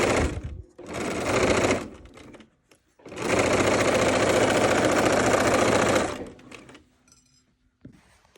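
Sewing machine quilting pockets on a fabric Christmas countdown calendar, running in a short burst then a longer steady stitching run of several seconds, loud and close, then stopping.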